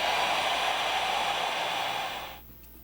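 A heat tool blows hot air onto a sticker on a Blue Yeti microphone base, a steady close hiss like a hair dryer that fades and stops near the end.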